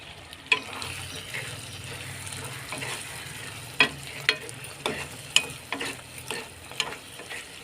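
A spoon scrapes and clacks through potato and mutton curry freshly topped with coriander and mint, with faint, irregular stirring knocks over a soft background sizzle.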